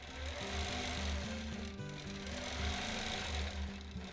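A free motion quilting machine stitches tight matchstick lines across a quilt, giving a steady close hum with a fast, even needle rhythm and small shifts in pitch as the speed changes.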